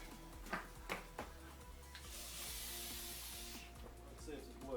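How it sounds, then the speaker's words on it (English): Short hiss of silicone spray aimed into the window frame of a Mercedes W639 Vito van, about a second and a half long, following a few knocks and handling sounds. "I'm just going to spray some silicone spray in the window frame."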